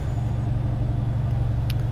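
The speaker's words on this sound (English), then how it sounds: "like, this truck here with a good engine sound like this Cummins." A Cummins truck engine in American Truck Simulator idles with a low, steady, throbbing rumble, close and constant, with a brief click near the end.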